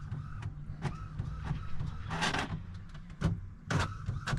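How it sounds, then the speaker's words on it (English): An office printer feeding and printing a page nearby, with repeated mechanical whirs, clicks and rolling feed bursts in an irregular rhythm, fairly quiet. "My printer is printing over there"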